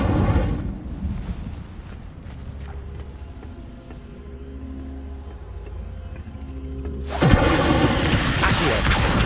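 Fire spell cast in the Hogwarts Legacy video game: a loud, sudden fiery burst near the end erupts over a low rumbling game soundscape.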